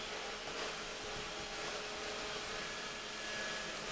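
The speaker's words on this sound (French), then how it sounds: "sous-entendez un bruit derrière, c'est mon aspirateur" Vacuum cleaner droning steadily in a home, a broad constant whoosh with no voices.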